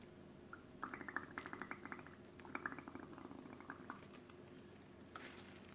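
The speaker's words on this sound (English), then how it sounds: "when you're blowing the bubbles, there's some small drops" Bubbles blown through a straw into watercolor paint make faint, close bubbling and popping in short bursts, with soft spatter of small drops.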